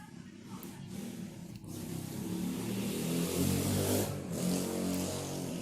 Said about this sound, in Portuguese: Passou uma moto barulhenta ali, não sei se vocês ouviram.